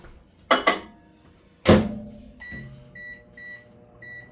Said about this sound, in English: I'm going to put this in the microwave for about 2 minutes